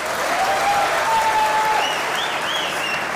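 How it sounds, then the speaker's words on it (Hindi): An audience at a cricket talk show claps steadily in a dense, loud wash of applause that holds for several seconds, with faint whistles or cheers rising above it. "हारिस रऊफ के फैंस अगर यहां मौजूद है, तालियां बजाएं भाई."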